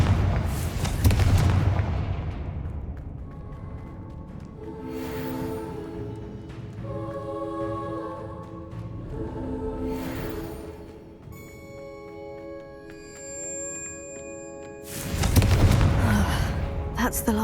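Loud fiery blasts from the Confringo spell in Hogwarts Legacy, one burst at the start and another near the end, with softer magical whooshes and ringing tones in between.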